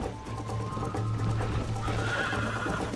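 A horse neighs and whinnies in the Western game Red Dead Redemption, a loud close call that runs for about two seconds over steady ambient game noise, with no talking.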